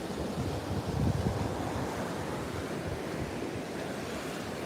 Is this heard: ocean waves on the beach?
yes